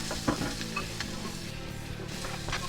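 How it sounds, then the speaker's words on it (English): Diced onions sizzling in hot bacon fat as they are stirred in a pot, a close, steady frying hiss with light scraping and occasional small knocks from the spoon, no one talking. "Throw in your diced onions, a couple tablespoons, maybe a quarter cup or so, and mix those around until they become fragrant."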